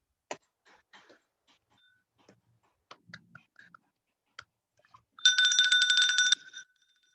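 Scattered soft clicks and small handling noises, then a bright bell rings steadily for about a second before fading.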